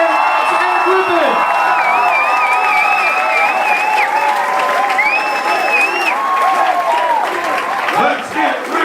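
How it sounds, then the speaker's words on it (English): A comedy club crowd applauds, cheers and whoops loudly and continuously as a comedian is brought onstage, with shrill whistles and shouted voices rising over steady clapping. "Please give him a round of applause."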